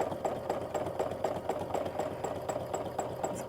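A sewing machine stitching steadily during free motion quilting of a loopy meander filler, its needle running in a fast, even rhythm that stays close and moderately loud throughout, with no talking.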